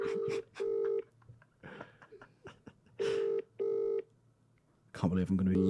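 A telephone rings out on a call, a sequence of paired electronic ring bursts separated by silent gaps, with people murmuring and laughing quietly between rings and a voice cutting in at the end.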